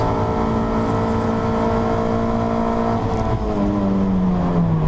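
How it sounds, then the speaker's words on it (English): Toyota MR2 race cars at the Anglesey circuit, engines loud and droning steadily as they pass, with pitch shifts as one car goes by, no talk over them. "Then the 9th car coming through there is number 26 in that very nicely turned out car by Paul Cook."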